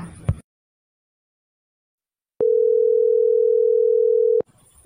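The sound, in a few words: telephone ringing tone while calling, cartoon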